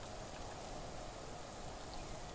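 Rain falls in the survival video game The Isle as a steady, soft, even hiss. It is faint and continuous, with no voices.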